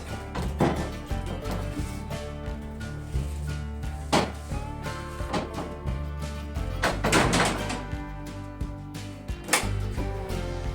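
A homemade wooden toilet door is fitted and closed, giving repeated knocks, thunks and a few sharp bangs at irregular intervals over a steady low hum.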